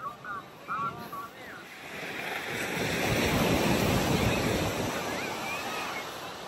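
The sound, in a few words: sea waves at Bagasbas beach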